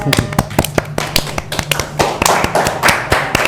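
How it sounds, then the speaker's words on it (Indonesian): Indonesian school students applauding their new student council president and vice president, a burst of irregular, close, loud hand claps from a group that thickens toward the end, with some voices mixed in. "tepuk tangan buat ketua dan wakil OSIS kita."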